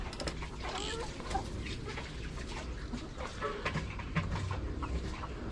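Backyard chickens clucking softly at a low level, scattered calls over a busy background of rustling and small noises, no talk.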